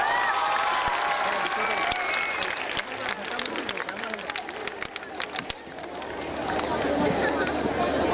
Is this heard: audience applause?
yes